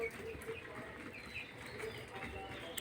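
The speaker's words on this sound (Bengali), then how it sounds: "দেখুন কিভাবে কবুতররা খাচ্ছে" Pigeons feeding on scattered rice grains give soft, low, repeated coos, faint against a quiet outdoor background.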